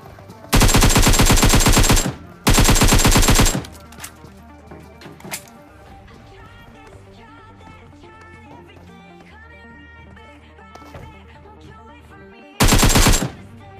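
AKM assault rifle fire in a video game: loud, rapid automatic bursts, two back to back near the start and a third near the end, with quieter game sounds in between.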